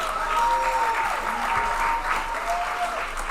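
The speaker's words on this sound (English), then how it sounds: "I said a big round of applause." A big round of applause at a disability mentoring day kickoff reception, dense clapping from a crowd filling the room steadily, with a little cheering and sustained tones riding over it.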